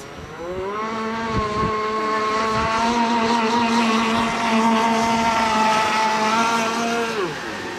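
A radio-controlled model boat's motor runs steadily on the water at a model boat meet in Otrokovice, its loud, high buzzing whine rising then holding a nearly constant pitch before easing off at the end.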